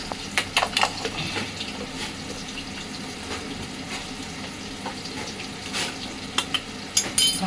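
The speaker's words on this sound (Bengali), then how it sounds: "ট্যাংরা মাছ যা ফাটে বাবা, এবারে ফটফট করে ফাটছে" Tangra fish frying in oil: a steady close sizzle with irregular sharp pops and crackles bursting through, some louder snaps near the end, with no talking over it.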